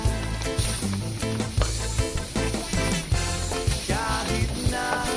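Ground beef sizzling loudly as it hits a hot pan for cheesy baked mac, a steady bright crackle with repeated thumping knocks, likely a utensil, pulsing through it.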